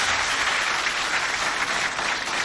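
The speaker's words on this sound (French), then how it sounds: "Applaudissez pour les deux scientifiques." Students and audience at a televised Chadian high-school quiz contest between lycées from Doba applaud two winning contestants, a dense, loud, continuous burst of clapping filling the hall.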